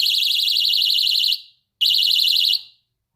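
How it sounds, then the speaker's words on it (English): Doberman door alarm for camera security, its two prongs pulled apart, sounds a loud, shrill warbling electronic tone in two bursts of about one and a half and three quarters of a second, separated by a short silence. "we have an alarm."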